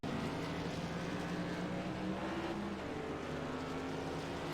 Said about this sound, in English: we got these cars coming off pit lane